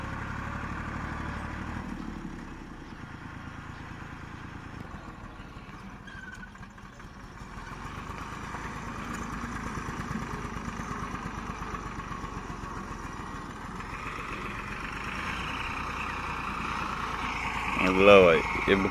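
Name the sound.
Greaves 353 tractor engine pulling a plough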